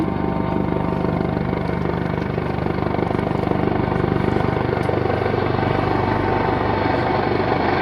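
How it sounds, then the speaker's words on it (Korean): Fire rescue 119 helicopter flying overhead near Jaunbong peak on Dobongsan during a rescue, its rotor roar loud and continuous throughout, with wind and rain in the mountain air. "다시 온다, 헬기."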